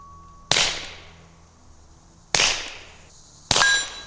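Suppressed .22 rimfire rifle shooting at targets: three sharp, loud reports spaced a second or more apart, each with a short decaying ring and a faint metallic clang after the first shot.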